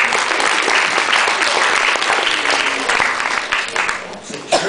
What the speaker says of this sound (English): How could you applaud that? You're applauding me.